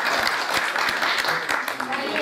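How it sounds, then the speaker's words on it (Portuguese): Audience applause for a mannequin at a cultural exhibition, dense clapping with a few louder nearby claps standing out and voices mixed faintly underneath. "Então, palmas para o nosso manequim."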